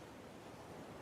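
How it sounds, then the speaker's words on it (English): A soft, continuous wash of surf, an even rushing hiss of waves with no voices. "The sound of the ocean."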